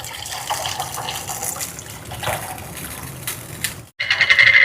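Tamarind water pours into a tin fish curry made with coconut milk, a close, splashing stream running for about four seconds before cutting off abruptly.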